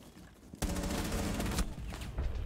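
Dense, sustained gunfire in a video game shootout involving a shotgun and claymores, erupting abruptly after a quieter moment and continuing as a loud, rapid barrage of overlapping shots.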